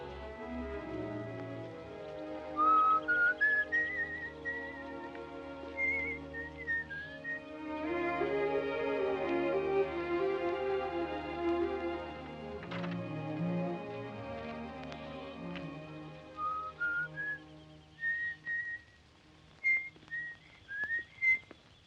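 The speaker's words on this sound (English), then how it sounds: "you wait here and whistle yourself a little tune till I come back" A person whistles a light, wandering little tune in short melodic phrases, alternating with stretches of soft orchestral music from a 1946 film, fairly quiet overall.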